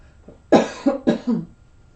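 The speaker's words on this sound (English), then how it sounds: "Famous little cough during the reading." Two quick, close coughs in a row, sharp and fairly loud, in an otherwise quiet room.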